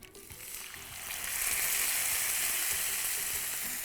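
A ground paste of coconut, cumin and green chili hits a hot mustard tempering and sizzles loudly, the frying hiss swelling after a second and holding steady and close.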